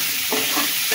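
Pumpkin pieces with chili powder and salt frying in a pan, giving a brief, steady, loud sizzle with a few soft stirring scrapes.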